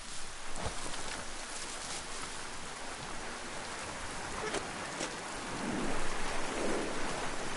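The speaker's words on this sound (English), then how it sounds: "Was that lightning?" Thunder and rain in a video game, a steady hiss of heavy rain on surfaces with a few sharp drop hits and a low rumble building toward the end, no voices.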